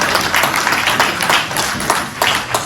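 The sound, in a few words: applause, clapping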